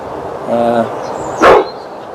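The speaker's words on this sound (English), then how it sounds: "Mad dog." A dog gives a single short, sharp bark at close range, preceded by a brief soft vocal sound against quiet outdoor background noise.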